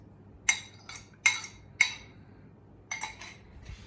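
A whisk beating eggs in a bowl for pumpkin pie: several sharp metallic clinks against the bowl in short bursts with quiet gaps between them, close and fairly crisp.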